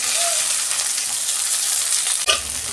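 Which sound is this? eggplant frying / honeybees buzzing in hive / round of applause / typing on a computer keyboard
eggplant frying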